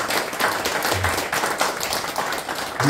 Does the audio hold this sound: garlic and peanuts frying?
no